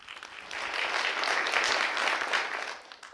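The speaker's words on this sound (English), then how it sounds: "a round of applause for the panelists to start" A round of applause for conference panelists, a dense wash of many hands clapping that swells quickly, holds steady for a few seconds and then tapers off, with no one speaking.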